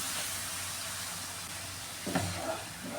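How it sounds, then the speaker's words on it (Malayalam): Milk poured into hot roasted semolina (rava) in a pan while making a banana snack, giving a steady close sizzle and hiss that swells with a bubbling burst near the end. "എടുത്ത് വെച്ചിരിക്കുന്ന പാല് അതും കൂടെ ഒഴിച്ചു കൊടുക്കുകയാണ്"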